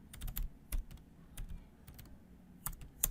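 A word is typed on a computer keyboard as a quick run of light, close key clicks, irregularly spaced, over faint background hum.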